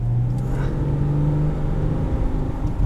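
A 3.6-litre flat-six engine in a 2013 Subaru Tribeca Limited revs at higher RPM, a steady, close and loud droning growl with a low hum, heard alone.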